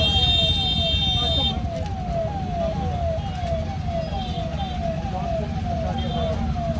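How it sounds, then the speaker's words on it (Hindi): A VIP convoy siren wails in steady rising-falling sweeps over loud traffic rumble near Sawaliya Seth Temple, Chittorgarh, with a brief high electronic tone at the start. "ये जो वीआईपी जाने थे, ये इनके सायरन की आवाज़ आने लगी।"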